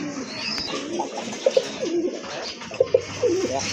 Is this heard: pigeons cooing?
yes